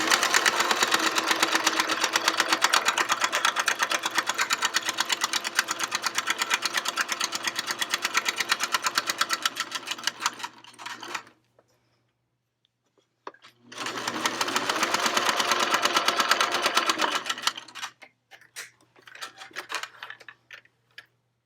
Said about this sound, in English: Place your sewing machine on zigzag and zigzag